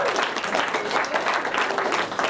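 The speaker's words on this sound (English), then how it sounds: "Let's just clap for stupidity" Short burst of lively audience clapping at a poetry performance in Denver, close and fairly loud, with some crowd voices underneath.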